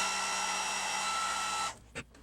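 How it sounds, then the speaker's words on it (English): A handheld blow dryer runs close and steady, warming the parts of an HP ENVY 15-j notebook's touch screen, then cuts off, leaving a short knock and faint room sound. "just gently use the blow dryer to heat it up and just gently work it in with your fingertips"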